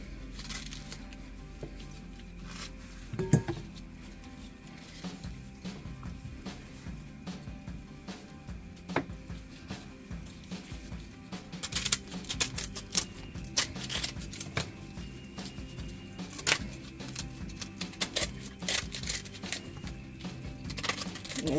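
A knife cutting a pineapple into pieces and removing the core, repeated close cutting and crunching strokes in an irregular rhythm over a steady background hum.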